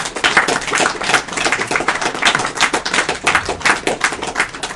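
Several people clap their hands rapidly and unevenly during a Demon's Crest and Ghosts 'n Goblins speedrun session, a close, loud, crackling patter of overlapping claps with no talking.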